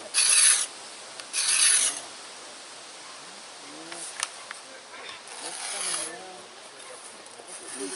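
A wooden bow stave is scraped by hand in a bow-making class, with two loud rasping strokes early on followed by softer, intermittent scraping and rubbing, near the microphone with faint voices in the background.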